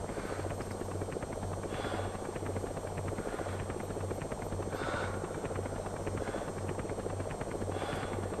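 A helicopter arrives at a landing zone in Metal Gear Solid V: a steady, rapid rotor chop throbs continuously at moderate level, with faint higher whooshes rising and falling over a low drone.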